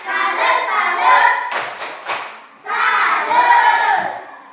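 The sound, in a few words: group clapping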